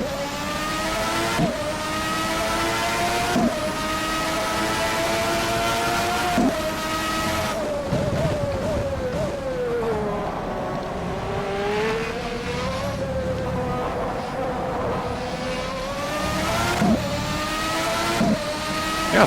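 A 1992 McLaren Formula 1 car in rFactor 2 screams around Imola, its high-revving engine rising through gears with sharp upshift drops and downshift blips, loud and close throughout with no talking.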